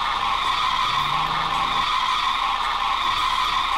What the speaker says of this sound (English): And the car's going to accelerate forwards.